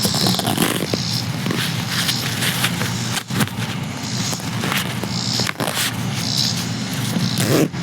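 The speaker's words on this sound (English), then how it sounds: "So let me mess with the zipper for a second." A clothing zipper is worked back and forth repeatedly, raspy zips close to the mic over a noisy background, with a few brief pauses.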